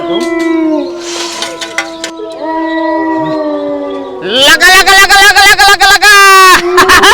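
A dog wanders and howls near a village well at night, drawn-out wavering howls that swell into a loud, close, quavering cry in the second half.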